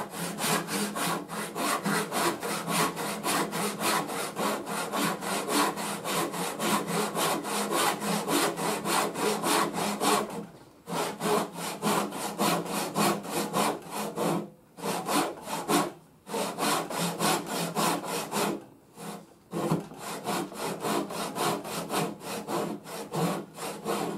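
Hand saw cutting wood to form the wedge pocket of a wooden hollow or round plane, a steady close rhythmic rasp of strokes running almost continuously with a few brief pauses, no talking.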